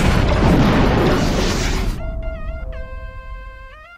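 A tank cannon in War of the Human Tanks ALTeR fires with a loud, broad boom that rumbles for about two seconds before cutting off, followed by bright synthesized game tones stepping through short beeps and chimes.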